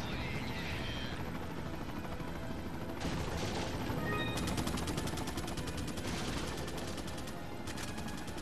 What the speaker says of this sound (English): It'd be nice if I had this helicopter with me the whole damn game.